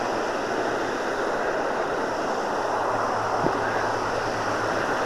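River Nene water flowing at a backwater near a lock, a steady broad rush with some wind, constant and fairly loud throughout with no voices.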